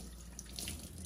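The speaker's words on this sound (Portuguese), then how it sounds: "Eu vou lavar minha mão e colocar mais um pouquinho de água e esquentar." Tap water runs steadily into a sink while hands are washed, a close, continuous splashing hiss.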